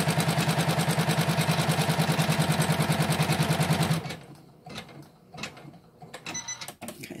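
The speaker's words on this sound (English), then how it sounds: "it's going to do what's called an outline or a tacking stitch to show us where we need to put our vinyl" A Janome Memory Craft 9700 embroidery sewing machine runs steadily at close range for about four seconds while stitching a tacking outline, with a fast even mechanical chatter, then stops, leaving faint clicks and handling noises.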